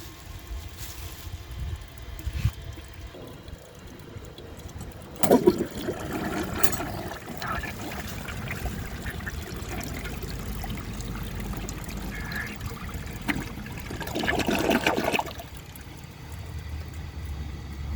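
Water flushed from a 1957 Kilgore Atlas toilet through its drain pipe, carrying a washcloth and a grocery bag, heard as a low trickling gurgle with two louder splashing surges about ten seconds apart.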